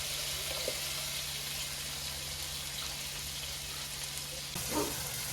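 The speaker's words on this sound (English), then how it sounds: "Now I'm putting my potatoes in to let them cook, and I already have put butter in to let them saute out." Potatoes cooking in melted butter in a pan fill the space with a steady, soft sizzle and crackle that stays even throughout, with a brief louder clatter near the end.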